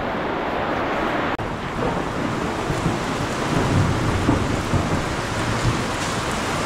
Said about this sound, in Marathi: भयानक विजा कडकडल्यात.